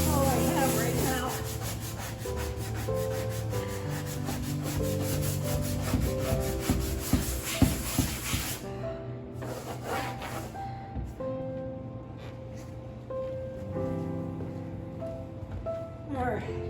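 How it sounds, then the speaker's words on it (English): A sanding pad rubbed back and forth over an interior wall being prepped for paint, rough scratchy strokes that are loud and continuous at first, then thinner and more scattered. "Not the best sanding pad."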